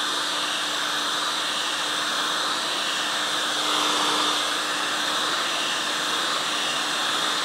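A heat gun warms the area around a wheel bearing held in a blind bearing puller, giving a steady, loud, close blowing roar with a constant electric whine that runs unbroken the whole time, with no voices.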